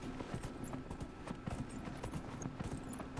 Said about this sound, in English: I like the sound of horses' hooves.